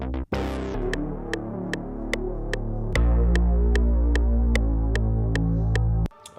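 Deep sustained bass notes from a dark trap beat, loud and throbbing under a steady pattern of sharp hi-hat ticks, the low end swelling heavier partway through before cutting off abruptly near the end.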